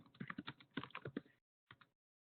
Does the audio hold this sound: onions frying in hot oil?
no